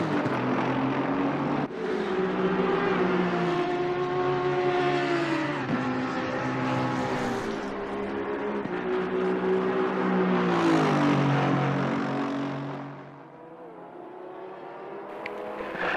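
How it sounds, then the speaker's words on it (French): Porsche 911 GT3R race car at the Kyalami 9 Hours in a sim racing game, its engine note rising and shifting through gears loudly and continuously before easing off near the end, with no talking. "Earl Bamber dans son dernier tour pour le Team Bernhardt dans la 911 GT3R numéro 117"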